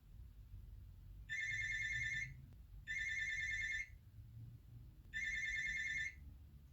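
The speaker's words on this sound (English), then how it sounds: "I didn't even know my house phone is still working." A house phone rings three times in separate electronic bursts, each about a second long. The ringing is fairly faint over a quiet room with no talking.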